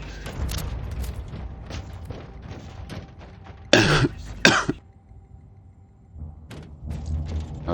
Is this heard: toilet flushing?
no